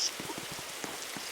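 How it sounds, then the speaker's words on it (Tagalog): Rain patters steadily on a surface nearby, dense irregular drops throughout a short stretch, with no talking. "Guys, it's raining."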